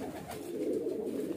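A green highflyer pigeon coos softly in a short, low, throaty burst, close by with no talking over it.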